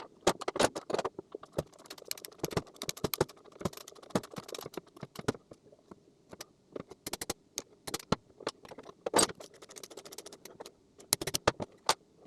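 Torque wrench tightening the rear linkage bolts on a Moto Guzzi Griso, a series of sharp clicks and metallic ticks in uneven clusters, close and fairly quiet, with short pauses between bursts.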